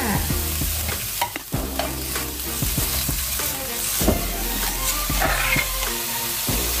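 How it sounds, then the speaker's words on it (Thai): Pork belly stir-fried in a hot pan sizzles loudly and steadily while a spatula scrapes and knocks against the pan in irregular strokes, close up, with no talking. "เดี๋ยวคั่วหมูสุกก่อนแล้ว เดี๋ยวพริกแกงตามลงไปจ้า"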